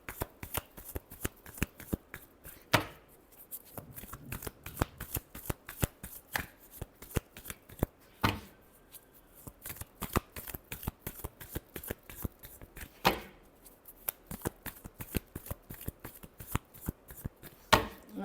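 Tarot cards are shuffled by hand, with rapid, rhythmic riffling and snapping bursts repeating steadily at close range, each broken by brief pauses. No voice is heard.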